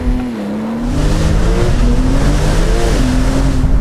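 A Brabus 720 tuned Porsche 911 Turbo S launches hard, its engine rising from a low idle into a loud, sustained roar as it accelerates, heard close up and alone.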